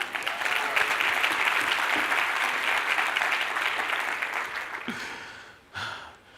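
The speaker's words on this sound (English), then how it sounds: "Can we give a round of applause?" An education conference audience applauds the staff with sustained, even clapping that fades toward the end, followed by a brief renewed burst.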